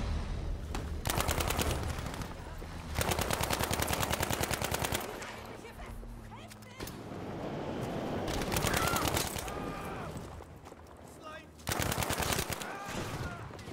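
Rapid automatic gunfire from a weapon in the video game Battlefield V, in loud repeated bursts separated by short pauses, with some speech mixed in.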